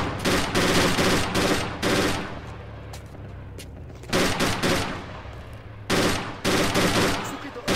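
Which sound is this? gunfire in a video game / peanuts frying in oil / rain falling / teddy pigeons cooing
gunfire in a video game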